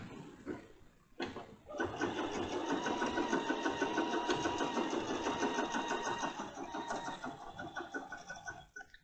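A quilting machine stitches an edge-to-edge pattern on a quilt, a fast, steady mechanical chatter running continuously for several seconds after a brief start, fairly faint and close.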